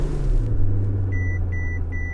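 A Mercedes S65 started with a push button: a low idle rumble settles in and three short electronic chimes sound over it, with no talk.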